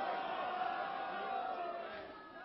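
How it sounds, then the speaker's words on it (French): Basketball arena crowd at a 1967 European Champions Cup game between ASVEL Villeurbanne and Olympia Ljubljana, a dense sustained murmur of disappointed voices that fades slightly at the end. "le public marque son désappointement, tandis que les quelques Yougoslaves applaudissent"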